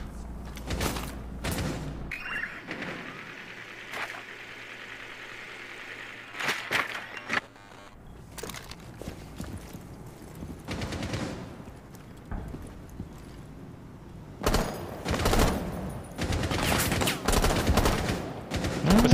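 Gunfire in Rainbow Six Siege: bursts of rapid shots and single cracks come in clusters separated by quieter stretches, with footsteps and game ambience between them.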